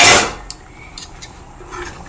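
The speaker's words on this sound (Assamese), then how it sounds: "এয়া মই ঢাকোন খুলি চাইছোঁ।" A metal pot lid lifted off a pot of simmering moong dal in a home kitchen, giving a sharp clank at the start followed by a few faint metallic taps and light clinks.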